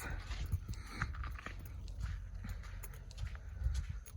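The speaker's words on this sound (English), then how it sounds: "I love that sound of the crunchy rocks." Crunching footsteps on loose rocks by a Gloucester, Massachusetts beach, a steady series of near, gritty steps with soft rhythmic impacts throughout.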